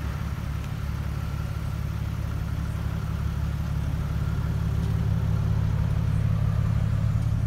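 A 2009 Ford XR6 Falcon engine idles steadily with a low, throaty rumble through a 2.5-inch sports exhaust, constant and close, with no other sounds.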